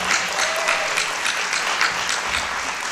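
A conference plenary audience applauds a panel, a steady, dense burst of clapping that fills the whole moment without any talk.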